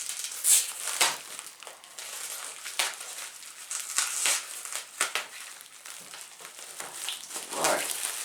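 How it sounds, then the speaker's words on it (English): Packing tape ripped and peeled off a parcel holding motorcycle rearview mirrors, crisp crackling and crinkling tears in irregular bursts, close by with plastic rustle between. "Go ahead and get this tape off here."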